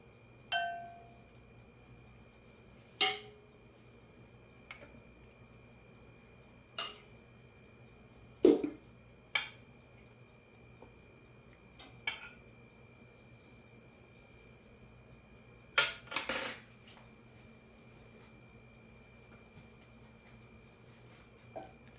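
Scattered, sparse clinks and taps as cooked cabbage is spread in a thin layer in a dish greased with canola oil, with isolated utensil knocks against the dish and quiet pauses between them.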